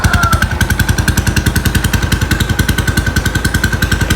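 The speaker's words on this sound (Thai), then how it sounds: "นี่เสียงท่อเราก็ู่ประมาณนี้ครับ เสียงท่อผ่านธรรมดา" Loud, close motorcycle exhaust with a rapid, regular throbbing beat at idle, holding steady the whole time.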